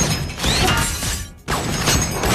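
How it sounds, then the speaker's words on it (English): Glass window shattering under sniper rifle shots, a cinematic sound effect for an alien warship scene: a dense, loud crashing burst that breaks off briefly and then surges back with a second wave of debris. "The glass shattered instantly"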